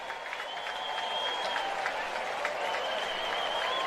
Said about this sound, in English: Nice round of applause by the Cardinal fans here as Brule will be taken out now.